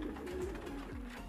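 A pigeon cooing softly, a low rolling throaty coo repeated in a couple of gentle swells, faint and somewhat distant against a steady background hum.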